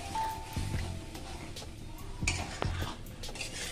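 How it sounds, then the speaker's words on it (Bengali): Masala paste for a fish-roe fritter curry being slowly sautéed and scraped in a pan with a little water, with intermittent clanks and stirring scrapes of a spoon against the pan over a soft background sizzle. "এবার মশলাটাকে আমি আস্তে আস্তে কষিয়ে নেব।"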